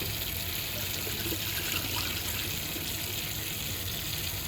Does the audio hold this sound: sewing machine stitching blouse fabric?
no